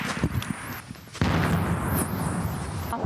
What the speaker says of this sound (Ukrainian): Росіяни потужно обстрілюють цей район.